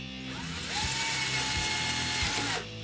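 A power drill whines up close as it bores into a kayak mount board, rising to a steady high-pitched buzz for about two seconds before winding down.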